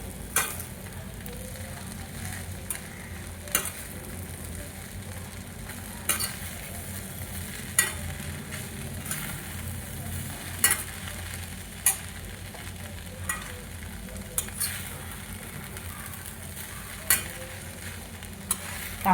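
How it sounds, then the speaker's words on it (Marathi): Poha with peas is stirred and fried in a pan over a low flame. A steady sizzle runs throughout, with a scrape of the spatula every second or two and no talk. "पोहे घातल्यावर पण लो फ्लेमवरच पोहे परतायचे"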